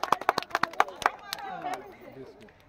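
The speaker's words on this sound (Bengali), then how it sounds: "সবাই হাততালি হবে।" A crowd of village women claps during a colour-matching ball game, a quick burst of about ten sharp claps over roughly a second that fades into chatter and voices.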